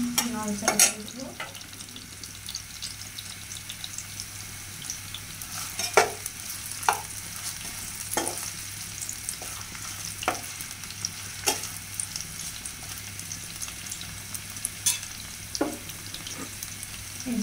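Small fish with green chillies and sour leaves frying in a pan, stirred with a utensil that gives repeated scraping strokes at an unhurried pace over a steady close sizzle, with no voices.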